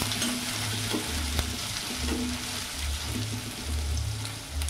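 Chili paste frying in a pan and being stirred, a steady close sizzle with soft scraping strokes of the spoon repeating throughout, no one talking.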